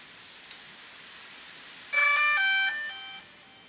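A quiet room with a faint click, then a DJI Mavic Air drone's short electronic start-up chime of rising and falling beeping tones that fades out.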